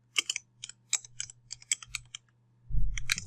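Quick, close keystrokes clatter on a computer keyboard in short irregular bursts, followed by a denser patch of louder taps and clicks.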